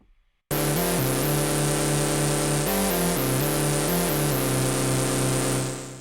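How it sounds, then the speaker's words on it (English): White noise from a Dagger synthesizer starts abruptly and holds as a loud, buzzy hiss with layered tonal hum, its pitch shifting in steps before it fades slightly. "And you have your white noise"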